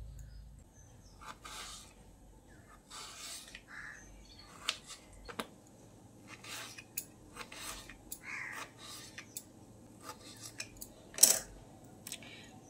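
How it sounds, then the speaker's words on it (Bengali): A knife slicing two medium peeled potatoes into thin strips, a series of sharp, separate chopping clicks on a board, irregularly spaced and fairly quiet, with faint room noise between cuts. "আলুগুলোকে আমি এইরকম একটু সরু সরু করে কেটে নিচ্ছি"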